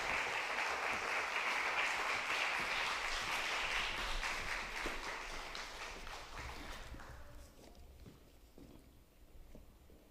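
A church congregation at a Wednesday evening service claps to welcome the pastor. The sustained applause fades out over several seconds and leaves a few scattered claps and room noise.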